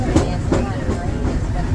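The Disneyland Railroad train rolls along its rails with a loud, close rumble and rhythmic clickety-clack of wheels on the track joints, continuous over the short stretch.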